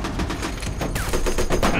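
Rapid machine-gun bursts crackle loud and close in a World War II tank battle scene, dense overlapping shots running the whole time with shouting voices mixed in.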